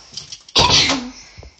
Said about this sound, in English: let me just shut my door.